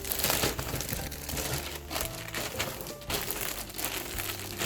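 Plastic packaging bag being folded and crumpled into a shipping box, giving a steady close crinkling and rustling that runs throughout with small crunchy bursts.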